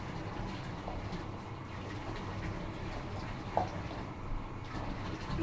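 Water runs steadily over a dog named Daisy in a tub as she is rinsed after shampooing, a continuous low rushing with no talk.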